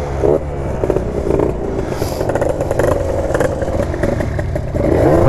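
Engines of an Aprilia scooter and a Yamaha WR 125 motorcycle run close by, a loud idling drone with rising and falling revs and some mechanical clatter throughout.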